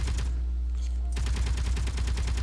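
Cannons on a C-Series planetary frigate starship fire in rapid automatic bursts in a video game, a loud, dense stream of repeated shots that breaks off briefly, then resumes over a constant low engine hum.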